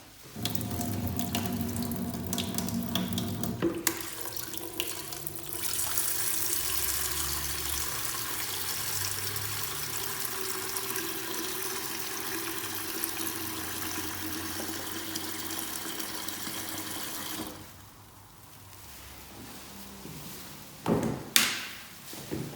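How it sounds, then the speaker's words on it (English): Warm water runs from a tap into a bucket in a surgery, a steady loud rush that continues for most of the clip before cutting off, followed by a few brief knocks and clatters. "Then you'd fill your bucket up with warm water."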